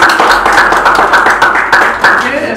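A small audience applauding indoors, a steady patter of hand claps that swells briefly and stays loud and close throughout.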